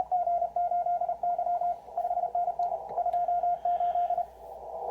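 A Morse code CW signal comes through a narrow 600 Hz filter on a ham radio: a loud, clean single-tone sidetone keyed in steady dits and dahs, with faint static underneath.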